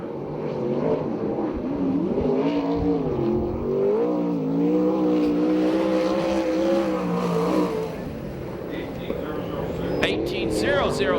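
USAC/CRA sprint cars race around the Perris, California track, engines droning and rising in pitch as they run laps, with an announcer talking over the roar.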